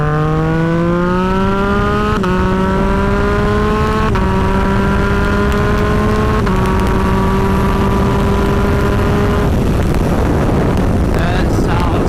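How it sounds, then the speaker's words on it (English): A 2022 Yamaha MT-09 with a Dominator GP3 aftermarket exhaust revs in rising steps, pitch climbing several times before breaking into rough, crackling exhaust noise, recorded up close with heavy wind. "Ain't gonna be hiding from anyone with this exhaust."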